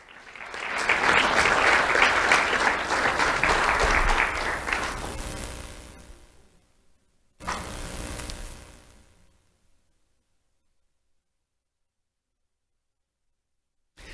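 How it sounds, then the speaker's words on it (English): Audience applause at an awards ceremony, a loud sustained round of clapping that swells, fades out over several seconds, then a second shorter burst that dies away into silence. "Let's have a round of applause for Ivan American Picazo."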